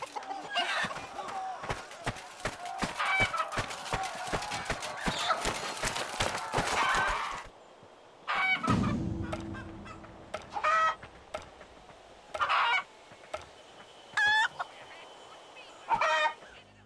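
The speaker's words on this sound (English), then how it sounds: "your character's normal shouts are replaced with chicken noises" Cartoonish chicken clucks and squawks from a knight character carrying a chicken into battle in the medieval combat game Chivalry 2, following a dense stretch of clashing melee noise, with several short separate bursts of clucking near and loud.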